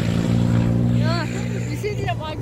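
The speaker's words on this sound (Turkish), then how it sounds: "Dayı traktörle bok taşıyor." A tractor hauling manure through a green village gives a steady low engine drone that runs throughout while someone talks over it.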